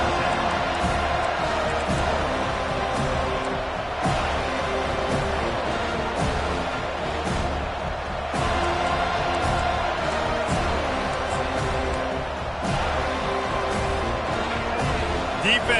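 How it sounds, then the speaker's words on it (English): A football video game stadium crowd roars and cheers continuously, a dense wash of noise rising and falling under a commentator's steady talk. "listen to this crowd roar"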